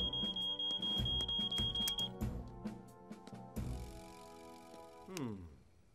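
Smoke detector alarm in a Fireman Sam cartoon, a steady high electronic tone sounding for about two seconds over loud busy cartoon music and effects.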